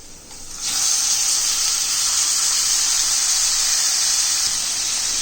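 Prawns added to a hot pan of masala: a loud, bright hiss swells suddenly after a brief quiet moment and then holds steady as a close sizzle, with no voices.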